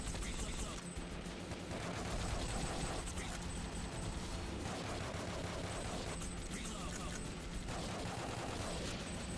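Rapid bursts of cannon and gunfire from the arcade game Time Crisis 2 crackle continuously, loud and dense, with brief pauses between volleys.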